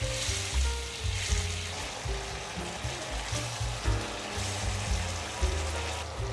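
Sauce boiling and sizzling in a pan around vegan potato, a close, steady crackle with bubbling pops and faint utensil scrapes, no talking.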